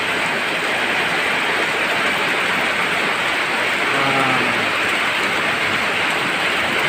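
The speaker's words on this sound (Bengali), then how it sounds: "দেখুন কি চমৎকার বৃষ্টি হচ্ছে, খুব সুন্দর এবং মনোরম দৃশ্য।" Heavy rain falls steadily over a village beside a nearly flooded pond, a dense, even hiss that stays loud and unbroken throughout, with no voices.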